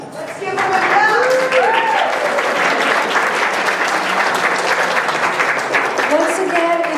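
An audience claps steadily for the local community at a candidate forum in Santa Cruz, a dense, sustained round of applause lasting several seconds with faint voices and cheers mixed in.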